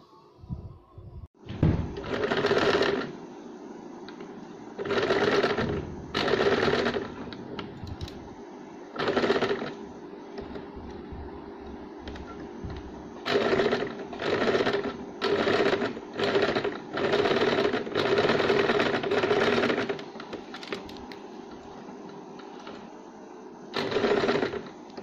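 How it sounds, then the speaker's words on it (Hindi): A sewing machine stitches pleated fabric for puff sleeves in repeated bursts, some short and some sustained, separated by brief pauses. It is fairly loud and close, with no talking. "अब हम इस पर सिलाई लगाएंगे, तो सिलाई लगा के इसे ये प्लेट हम सेट कर लेंगे"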